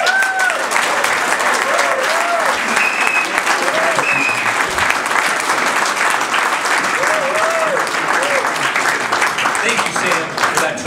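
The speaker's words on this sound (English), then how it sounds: "I present to you our mayor and our next mayor of the city of Annapolis" An audience at a civic event in Annapolis gives sustained applause after the mayor is introduced, a dense steady clapping that fills the whole stretch, with a few whoops and voices mixed in.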